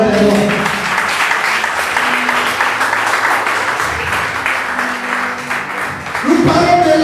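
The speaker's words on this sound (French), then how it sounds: "acclame Jésus le roi des rois" A church congregation claps and cheers together in a sustained wash of applause that swells toward the end, with a voice speaking over it.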